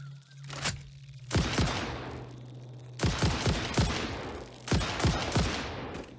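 Rifle fire in Satisfactory while hunting big hogs, heard as three close bursts of rapid shots, each volley a tight cluster of sharp reports trailing into a noisy tail, separated by short lulls with a faint steady hum.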